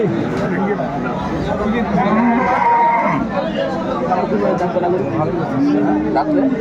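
Cattle moo repeatedly at a market selling Sahiwal bulls in Dinajpur, several drawn-out calls near and far over a murmuring crowd, with people talking close by.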